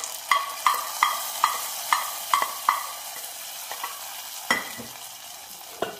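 Fried mustard seed tempering poured into a pot of lentil curry gives a burst of sharp sputtering pops in a fairly regular run, then a softer fading sizzle with a few late crackles, near and fairly loud.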